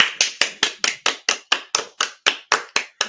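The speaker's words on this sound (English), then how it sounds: "Clap for him." A room of people applauding to celebrate a son getting his own apartment, about thirteen sharp, evenly spaced claps over three seconds, loud and close with no talking.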